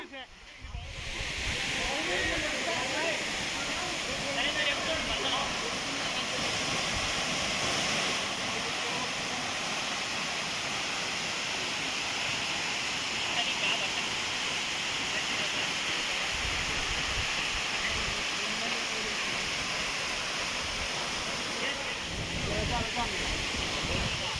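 Vasudhara waterfall in Andhra Pradesh pours in a constant loud hiss and roar that fills the whole stretch, with someone talking over the steady water throughout.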